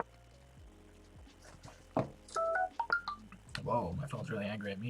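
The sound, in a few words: phone alert sound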